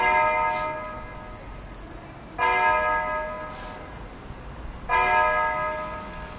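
Church bell tolling New Year's chimes in Badajoz, three loud resonant strikes about two and a half seconds apart, each ringing on and decaying, heard alone outdoors with no talking.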